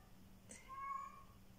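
A pet cat gives a single faint meow, somewhat distant, over a quiet, steady room hum.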